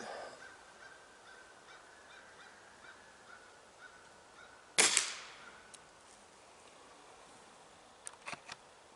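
A single sharp report from a Gamo Swarm Maxxim air rifle cracks out mid-clip and decays quickly over quiet outdoor background, followed later by a few faint clicks.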